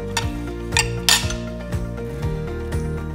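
Metal cutlery scraping and clinking against a plate while steamed fish with ginger and scallions is cut, several sharp taps and scrapes within a few seconds over a faint low hum.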